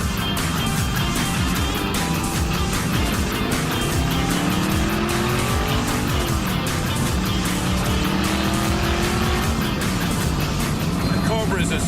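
A Shelby Cobra sports car roars steadily as it is driven hard, its loud engine note rising and falling, with occasional tire squeal and a voice talking over it.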